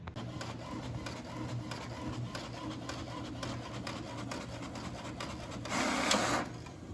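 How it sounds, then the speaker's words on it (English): An inkjet-style printer prints an image with a steady mechanical whirring and rhythmic ticking of the print head, fairly faint, and a brief louder paper-feed swoosh near the end. "we're gonna print this out"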